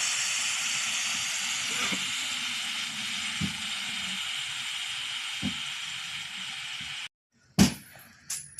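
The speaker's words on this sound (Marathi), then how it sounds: "आपण याची वाफ काढून घेऊयात।" Steam hisses steadily out of a pressure cooker of rice after two whistles, a loud continuous rushing release lasting about seven seconds that then cuts off, followed by a few short sharp bursts.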